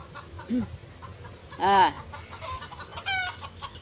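Large chickens clucking outdoors in a rural yard, with a few short, fairly close calls spaced over the moment and a louder squawk in the middle.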